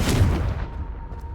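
A Confringo spell blast from Hogwarts Legacy, a single booming burst that strikes loud and close and then fades into a low rumbling tail.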